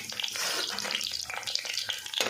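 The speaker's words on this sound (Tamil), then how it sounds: "அதில் வடகம், சீரகம், அப்புறம் வெந்தயம், கருவேப்பிலை இது எல்லாத்தையும் ஒன்றா போடுறோம்." Vadagam, cumin, fenugreek and curry leaves fry in hot oil in a clay pot, giving a steady close sizzle with crackling pops and some stirring scrapes throughout.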